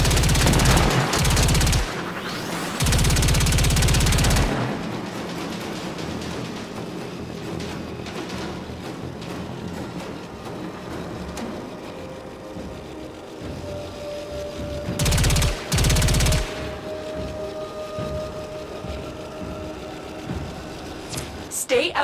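Rapid gunfire during a Warframe Archwing mission arrives in several dense loud bursts, two early and one later, over a continuous hum and crackle of combat noise.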